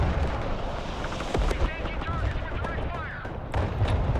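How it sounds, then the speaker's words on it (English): Artillery and gunfire in the war game Broken Arrow, a dense rumble of distant blasts and crackling shots with a few sharper booms, over steady battle noise. "The artillery is like right there."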